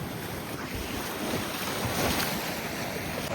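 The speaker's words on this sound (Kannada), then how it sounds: "ಫುಲ್ಲು ಅಲೆಯ ಸದ್ದು" Ocean waves wash onto a Goa beach, a close, continuous rushing surf mixed with wind buffeting the microphone, swelling slightly toward the end with no talk.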